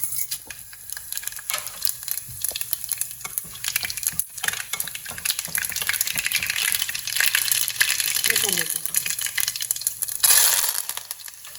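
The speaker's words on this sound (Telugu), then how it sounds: "పోపు వేసేద్దాం." Tempering spices crackle and sizzle in hot oil inside a pressure cooker on a stove, a continuous bright frying hiss with scattered pops and some stirring clatter, steady and close.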